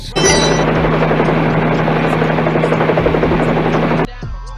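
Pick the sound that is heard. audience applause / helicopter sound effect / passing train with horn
helicopter sound effect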